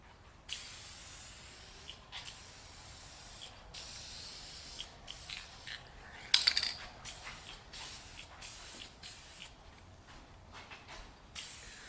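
An aerosol can sprays a light coat of VHT paint onto Ford Mustang Foxbody headlights, delivering a series of short hissing bursts separated by pauses, close and fairly quiet, with a faint clink midway.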